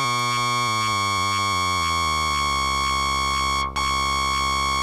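A Behringer Spice synthesizer tone drones steadily while its modulation shifts as sub frequency 1 is lowered, first pulsing in quick stepped warbles, then smoothing into a steady held tone.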